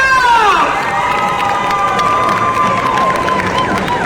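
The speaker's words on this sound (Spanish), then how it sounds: "¡Fuerte el aplauso!" An audience at a comic convention expo in Guadalajara cheers and applauds loudly, with high shouts and whistles rising over dense, steady crowd noise.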